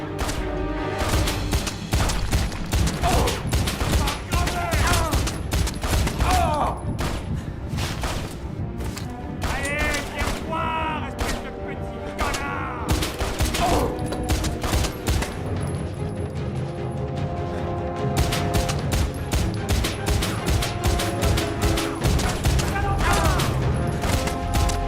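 Stranglehold gunfire runs almost without a break, with rapid, dense shots, crashes and thuds from heavy action, and intermittent voices mixed in.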